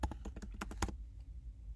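A quick burst of keystrokes on a computer keyboard while a command is entered for a statistics plot, close and crisp, stopping after under a second and leaving a quiet room.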